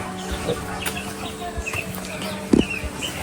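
Chickens cluck softly in a farmyard, a few scattered calls with one sharper cluck standing out against a low background hum.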